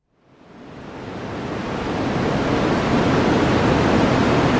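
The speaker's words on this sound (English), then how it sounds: "Because in the sidebar, they play white noise." White noise played over courtroom speakers during a sidebar swells up from silence into a loud, steady, broadband hiss that holds without change.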